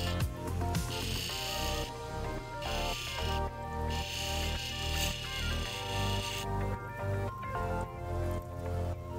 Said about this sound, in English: we're polishing her up, and we're using a felt polishing pad infused with cerium oxide